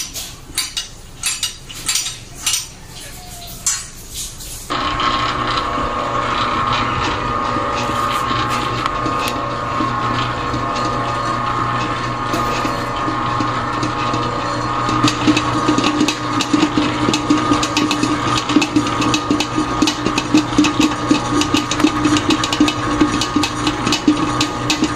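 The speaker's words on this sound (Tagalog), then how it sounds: "kagamitan ko ng electric dough mixer" Electric dough mixer kneading dough, a steady loud motor drone with a rattling, clinking mechanical texture that runs continuously after some initial clattering.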